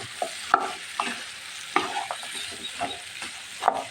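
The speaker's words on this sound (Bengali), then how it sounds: "এখন আমি সবজিটা ঢেলে দিব" Vegetables frying in a pan just after being poured in for a shrimp curry, a soft steady sizzle broken by sharp spatula scrapes and clinks against the pan at irregular intervals, close by with no talking.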